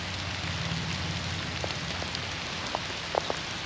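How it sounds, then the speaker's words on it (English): Steady rain hissing across the ground in a video game while exploring ruins, a continuous soft patter with a few faint clicks and taps near the end, no voices. "I honestly like rain."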